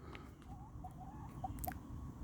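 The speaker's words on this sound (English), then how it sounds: "we'll stop and say hello to the chickens" Soft, scattered clucks from chickens over a low rumbling background, fairly quiet with a couple of brief sharper notes near the end.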